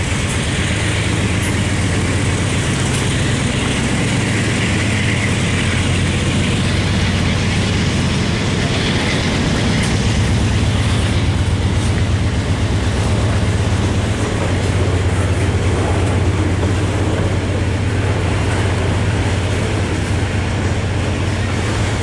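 Freight train with auto racks rolls past up close, a loud continuous roar of wheels and rumbling cars with a steady clickety-clack throughout.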